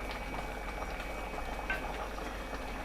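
Banana flower gravy with coconut simmers in a pot as a steady bubbling boil, a dense low burble of popping bubbles that stays even and close throughout, with no speech.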